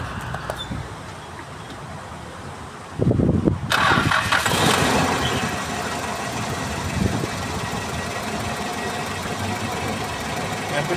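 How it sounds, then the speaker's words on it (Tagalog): A Nissan Terrano D21 engine cranks and catches after a few seconds, then keeps running with a steady, rattling mechanical drone. "pinantro ko yung makina para umikot yung tubig"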